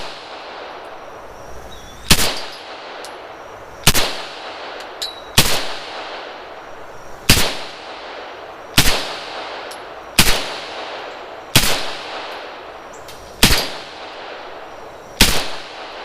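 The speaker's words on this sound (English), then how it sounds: "Taking a few shots with this" A rifle fitted with flip-up iron sights fires nine sharp, loud shots, each about one to two seconds apart, and each crack trails off in a short echo. The shots stand alone with quiet in between.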